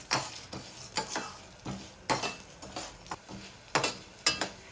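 Chana dal and urad dal roasting in a pan for moringa leaf spice powder, scraped and stirred in short rhythmic strokes, each stroke a crisp rattling scrape over a faint, steady sizzle, close by with no talk.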